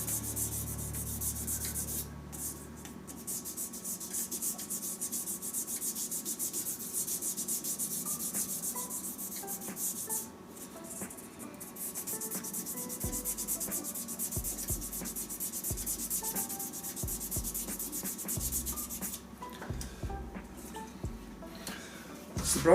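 Micro mesh pads rubbing by hand over a resin and wood shaving brush: a soft, steady rhythmic scuffing that stays fairly quiet, with faint low thumps in the second half.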